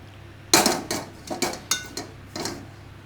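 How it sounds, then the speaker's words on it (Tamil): A cooking pan (chatti) for a Srirangam pepper kuzhambu is set down on the stove with a sharp metallic clank, followed by several lighter knocks and rattles as it is shifted into place, close and without speech. "இப்போ சட்டியை போட்டுக்குங்க."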